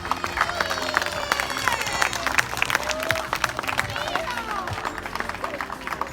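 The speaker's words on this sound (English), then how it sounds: "Let's have one last round of applause for our entire pack and their accomplishment." A room of families at a Cub Scout pack rank advancement meeting claps in a sustained round, with dense, even clapping over the whole stretch and scattered voices and whistles rising from the crowd.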